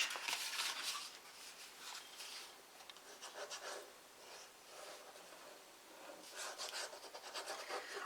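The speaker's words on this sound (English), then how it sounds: "So give it a good burnish." Paper score lines are burnished for a small brag book album, making soft, close rubbing and scratching strokes in uneven back-and-forth bursts.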